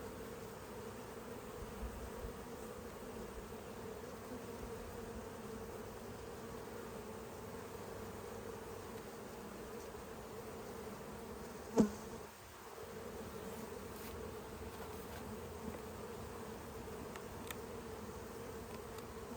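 Honey bees buzzing around an opened beehive during colony splitting, a continuous close swarm hum with a brief knock midway, no talk.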